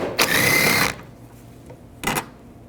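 A power ratchet spinning a 10mm socket to remove a bolt while installing a windshield wiper motor on a 2010-2017 Chevrolet Equinox: a sustained whirring burst, a pause, then a second shorter burst.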